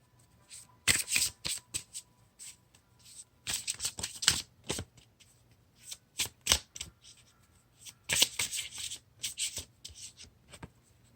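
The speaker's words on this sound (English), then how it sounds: "Sometimes I'll shuffle multiple times before trying to do so." Tarot cards are shuffled close to the microphone in quiet, intimate bursts of crisp riffling and flicking, several separate rounds broken by short pauses, with no talk.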